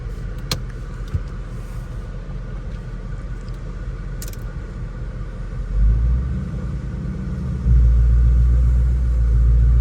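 A Ford Mustang Bullitt's engine and exhaust rumble from inside the car while driving, a steady deep drone that swells louder twice as the throttle opens, with a couple of brief clicks early on.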